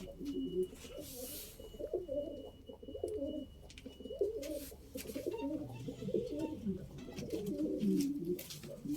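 Pigeons coo repeatedly in low, throaty rolls, several birds overlapping close by, with faint rustling and background noise throughout.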